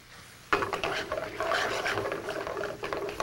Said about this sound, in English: we just want to toss the sour cream into the red wine and the steak tips